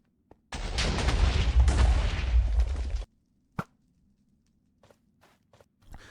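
A single loud explosion in Minecraft, a broad roaring blast lasting about two and a half seconds, followed by quiet with a few small clicks and pops of scattering blocks.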